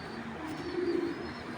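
A Giribaz pigeon gives a soft, low coo close by, a short murmuring call over faint background noise in a pigeon collection.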